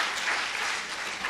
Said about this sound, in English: Dear audience, please welcome with a big clap